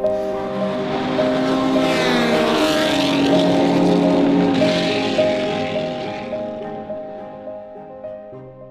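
A powerful vintage racing car engine roars nearby with a rich, rumbling drone that swells as it passes and then fades away into the distance.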